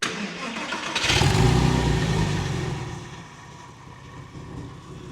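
A motor engine turns over and catches, revving up loudly, then settles back to a steady idle rumble.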